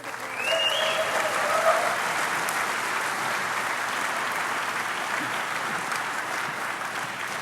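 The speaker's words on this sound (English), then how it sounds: "Come on, give them a round of applause." An audience at a DEFCON hacker conference applauds first-time speakers with steady, dense clapping that swells quickly and holds evenly. A brief whistle rises near the start.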